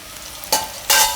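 Red chili powder stirred into hot oil in a pan, a continuous sizzle broken by two sudden bursts of loud hissing spatter as the spoon moves, close and fairly loud.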